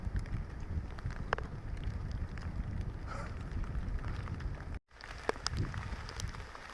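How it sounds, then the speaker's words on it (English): Steady rain and gusty wind roar around a hiker on a winter Appalachian Trail hike, a dense continuous wash with scattered drops and buffeting, briefly cut off near the end before resuming. "Pretty much raining all day long."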